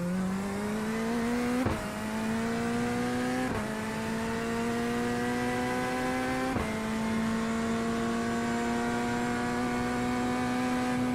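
Corvette race car in the iRacing sim revving steadily, its loud engine note climbing continuously with three sharp upshift breaks, close and sustained with no talk.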